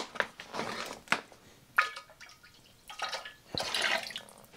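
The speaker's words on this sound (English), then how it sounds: "I can now add in my lactobacillus into this wort." Liquid lactobacillus culture poured into warm beer wort for kettle souring a Lichtenhainer: soft, close splashes and drips come in several bursts of uneven length, quiet and alone without any talk.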